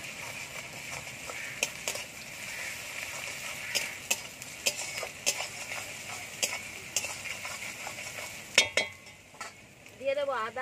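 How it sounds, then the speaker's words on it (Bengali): Garlic sizzling in a hot pan on top of already-fried onions, with a steady crackle and repeated scraping stirs of a utensil throughout, fairly close and with no talking. "রসুনটা একটু ভেজে নেব।"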